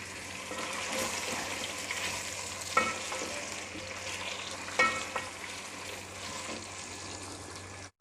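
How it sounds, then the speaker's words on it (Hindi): Halved potatoes frying in a pan with garlic-ginger paste give a steady hiss, with a few louder scraping bursts from stirring partway through. "और साथ ही ये हाफ़ के जो पोटैटोज़ हैं, इनको भी फ्राई कर लेते हैं 2 से 3 मिनट के लिए।"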